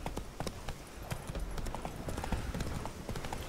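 Horse Roach galloping in a video game, a steady clip-clop of hooves at close range running through the whole stretch, fairly even in loudness.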